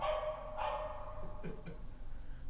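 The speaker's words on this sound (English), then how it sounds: "a dog's putting his 2 cents worth in" A dog barks a few times nearby, giving short, moderately loud woofs over a quiet background.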